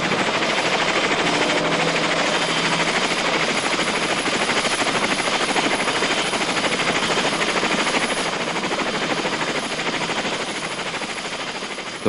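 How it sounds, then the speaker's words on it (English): Helicopters flying low over jungle on both sides of a river in wartime, a loud, continuous broadband rotor and engine roar with a dense choppy texture that holds steady throughout and eases slightly near the end, with no speech. "Helicopters spray the jungle on both sides of the river"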